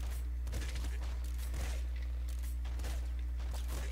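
Gunfire sounds in a shooter video game as quiet, quick bursts of shots at roughly one-second intervals over a steady low hum.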